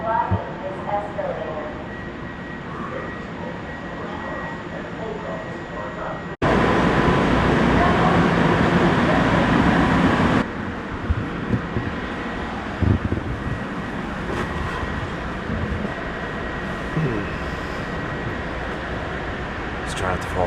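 Steady rumbling ride noise inside a moving commuter train out of New York toward Long Island, with a louder rushing burst partway through and a voice speaking briefly over the din.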